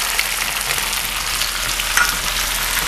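Tomato sauce, vinegar and hot sauce poured into a hot pan for escoviche fish, sizzling loudly and steadily up close, with a constant bright hiss and no talking.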